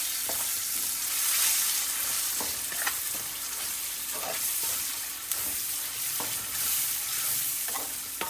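A spoon stirs spices into an amla, ginger and green chilli pickle in a bowl, with repeated scraping and clinking strokes over a steady wet, sizzle-like hiss, close up with no talking.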